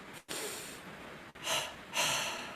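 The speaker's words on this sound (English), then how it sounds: "it's called double breathing because we do a particular thing with our breath" Sharp nasal breaths of a double-breathing kriya, quick doubled inhales through the nose, come in close bursts separated by brief pauses, with no speech.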